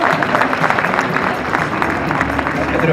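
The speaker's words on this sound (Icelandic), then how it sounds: "Við skulum klappa fyrir því" Applause from a horse show audience, a steady dense spread of clapping filling the arena at moderate loudness, with a voice speaking over it.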